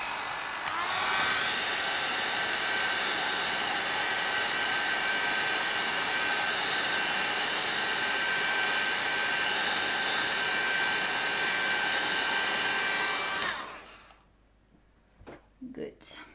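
A hair dryer blows steadily and loudly over a watercolor painting for about thirteen seconds with a constant whining hum, then switches off, leaving faint handling noises and room sounds.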